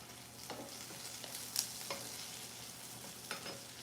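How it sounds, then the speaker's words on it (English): Onions caramelize in a pan with a soft, steady sizzle, broken by occasional scrapes and stirs of a utensil, heard close and quiet. "There's nothing too thrilling about caramelizing onions."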